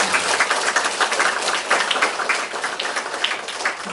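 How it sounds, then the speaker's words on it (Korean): A church congregation applauds steadily, a dense wash of many hands clapping throughout with no voices standing out. "건강하시라고 한번 박수 한번 보내주시면 좋겠습니다."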